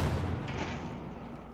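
Battlefield 4 gunfire, a dense rumbling burst of shots with heavy low boom, steady and fairly loud throughout with no talk.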